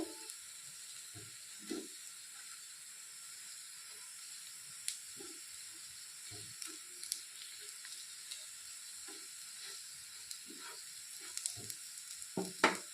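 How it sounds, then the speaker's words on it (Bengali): Cabbage and coriander fritters fry in hot oil with a steady close sizzle and hiss, dotted with brief crackles and spatters, and no voices. "তখন এগুলোকে আমি উল্টো পাল্টে ভেজে নেব।"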